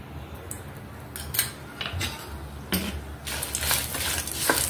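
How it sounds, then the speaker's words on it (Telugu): Dried red chillies frying in a spoonful of oil, a soft sizzle with intermittent metallic scrapes and clinks of stirring in the pan, close by. "మిర్చి కూడా వేసి వేయించుకుందాం."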